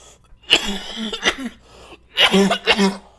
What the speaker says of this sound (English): That stupid cough.